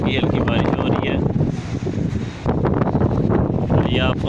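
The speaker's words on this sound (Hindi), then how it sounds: "ये आपको आंधी की आवाज़ आ ही रही होगी क्योंकि ये दिख तो सकती नहीं। बहुत तेज़ हवा चल रही है" Strong storm wind roars outdoors on a summer cyclone night with light rain and lightning, a loud, continuous gusting rush that dips briefly in the middle before surging back.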